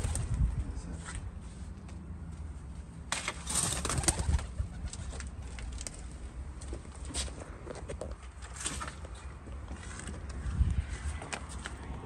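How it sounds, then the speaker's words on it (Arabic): Pigeons coo softly inside a house while someone checks a bedroom for a beehive, with scattered knocks, shuffling and handling noises around them through about twelve seconds. "في حمام يا ناي"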